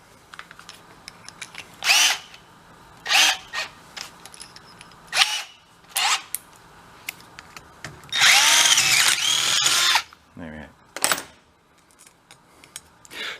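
Power drill boring out a broken tap stuck in a busted bolt, heard in several short loud bursts and one longer sustained run of whining drilling, with pauses of quiet in between.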